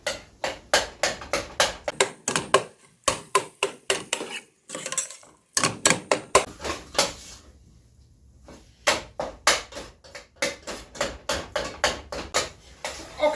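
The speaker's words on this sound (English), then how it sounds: "we're going to cook this, breaking it up with a spoon until it's just cooked through and browned" A spoon scrapes and knocks against a pan while breaking up ground beef browning for spaghetti meat sauce, giving rapid, rhythmic metallic clatter in close bursts with a few brief pauses.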